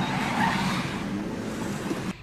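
A car drives by itself with no hands on the wheel, a brief loud rush of engine and tire noise with a slight squeal, heard alone without talk.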